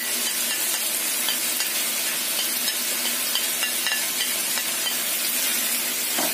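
Beef with onions and spring onions is stirred in a hot pan, giving a dense, loud, continuous sizzle with faint scraping from the stirring.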